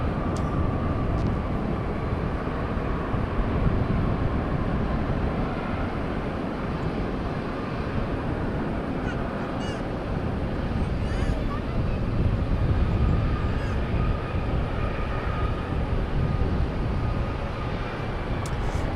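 An old Frontier airliner at DFW airport roars steadily through a broad, continuous jet rumble, loud and sustained throughout, with the engine noise filling the whole stretch.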